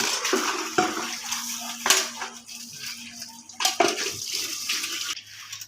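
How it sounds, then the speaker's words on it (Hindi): Cold water poured onto a young neem sapling outdoors, with a steady rushing splash interrupted by several sharper bursts of water hitting soil and leaves, fairly close. "तो पानी डालते हैं ठंडा।"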